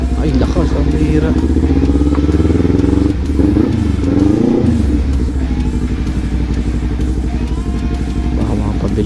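A Kawasaki Ninja Z400 engine drones steadily and loudly while being ridden, its note rising and dipping slightly, with a voice talking over it.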